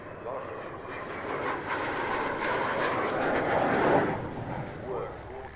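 A Gloster Meteor night fighter, the only airworthy one, flies the circuit, a steady broadband jet roar swelling slightly as it passes, with voices talking over it.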